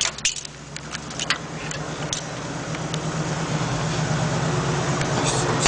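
A car engine fitted with a hydrogen-oxygen fuel system idles steadily with a low, even hum and faint ticking, close by and with no talk over it.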